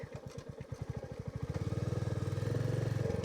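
Royal Enfield Meteor 350 (2023) cruiser engine thumping close by, a steady single-cylinder pulse that quickens slightly and evens out, with no voices.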